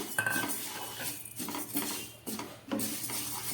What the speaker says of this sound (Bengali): কড়াইটা গরম হয়ে গেছে এবার এর মধ্যে আমি দিয়ে দিচ্ছি ডাল